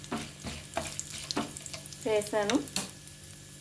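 Chana dal and urad dal fry in a few small spoons of hot oil for a Telugu okra (bendakaya) fry, a soft, close, crackling sizzle with faint stirring taps, while a voice speaks briefly over it.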